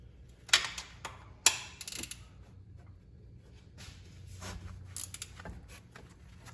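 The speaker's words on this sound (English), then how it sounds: "once you break it loose with the wrench, you can just turn it with your fingers" A 13mm wrench breaks loose and turns the oil drain plug on a Fiat 124 Spider Abarth, making a few sharp close metallic clicks and ratcheting ticks amid quiet garage ambience, with no speech.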